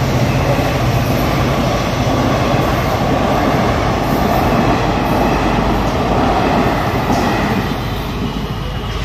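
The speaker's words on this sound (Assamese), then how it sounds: "কিন্তু ট্ৰেইন আছে" A train rolls past near a railway bridge under construction in Assam, a loud, continuous rumble with rattling wheels that fills the whole stretch, with no talking.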